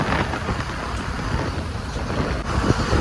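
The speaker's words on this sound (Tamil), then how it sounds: "காற்று சரியான காற்றுங்க பார்த்தீங்கனாலே உங்களுக்கு தெரியும் எந்த அளவுக்கு காற்று கிடக்குது கடல் மேல" Strong wind blows over the open sea aboard a boat far offshore, a loud, dense, continuous roar and rush that fills the whole moment, with no voices.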